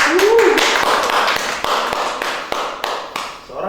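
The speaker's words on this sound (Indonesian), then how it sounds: "Tapi sebelumnya kita tepuk tangan dulu buat Carrie." On a stage show, sharp hand claps sound in an even, steady beat for performer Carrie, close and fairly loud, with a voice heard briefly at the start.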